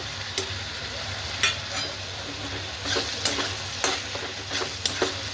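Green beans (hirva ghevda) with crushed peanuts stirred in a frying pan, a steady close sizzle with scattered scrapes and clinks of a utensil against the pan.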